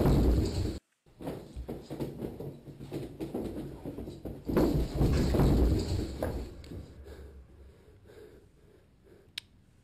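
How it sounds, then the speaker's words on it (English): Footsteps in a scary compilation clip: scattered thuds and scuffs over a dense, rumbling background, with a brief gap near the start. The sound fades toward a quiet end, broken by one sharp click. "once you heard that first footstep"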